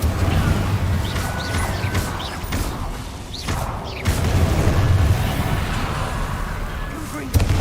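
An Incendio fire spell is cast in the video game Hogwarts Legacy, making repeated whooshing bursts and dull booms. A voice speaks over the fairly loud effects.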